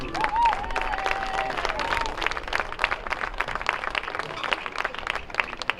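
A crowd at a high school football game applauds the football seniors, steady clapping continuing throughout with a whistle-like tone early on and no speech over it.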